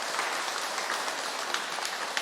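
A church congregation at a Sunday service clapping together, a dense, even wash of applause heard from within the room, steady and fairly soft for the whole stretch.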